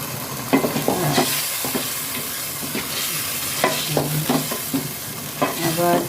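Country chicken sautés in a pan with fried spice paste and a little salt, giving a continuous close sizzle punctuated by irregular scrapes and knocks of a spoon stirring the meat.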